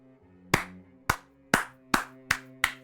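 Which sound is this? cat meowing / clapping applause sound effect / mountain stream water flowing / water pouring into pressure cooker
clapping applause sound effect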